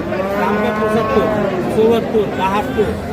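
Sahiwal cattle at a busy livestock market in Dinajpur, Bangladesh, lowing repeatedly in long drawn moos, close and loud, with people chattering in the background.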